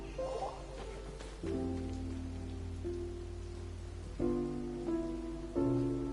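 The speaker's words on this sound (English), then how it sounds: "It's raining!" Steady rain falls through a Genshin Impact story cutscene, a continuous hiss of drops on surfaces that holds at an even level beneath layered game music and sustained tones, with no voices.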